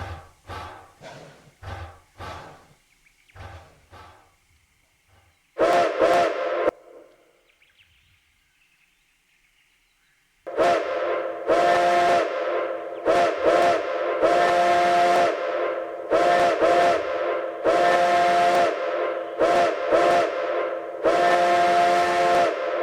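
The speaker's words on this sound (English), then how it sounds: "So let's see which whistle is very loud." A 0-4-0T geared steam tank locomotive in a Roblox train game sounds its whistle repeatedly: a few short toots first, then a held blast, and later a series of long, loud, shrill chime-like whistles separated by short gaps.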